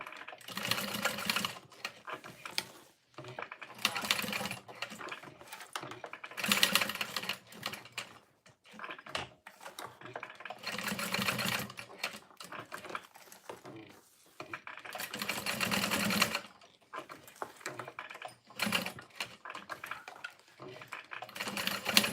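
Sewing machine stitching a Freesia fold-over bag near the end of a bobbin, running in repeated loud bursts of rapid mechanical whirring with short pauses between runs.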